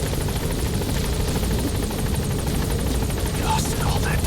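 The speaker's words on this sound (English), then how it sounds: "Support helicopter has arrived." Support helicopter in Metal Gear Solid V: The Phantom Pain hovering at a landing zone, steady loud rotor chop and engine drone filling the scene continuously, with faint chirpy effects near the end.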